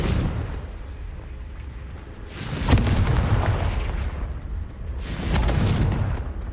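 Confringo explosive spell cast in the Hogwarts Legacy video game, with two heavy booming blasts a few seconds apart over a loud continuous rumble, no speech.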